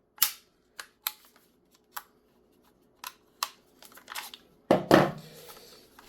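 A Raptor SR-2M airsoft gas blowback rifle firing: sharp, close snapping shots spaced apart, then a quick rattling cluster of rapid full-auto shots near the end, in a quiet room with no voices.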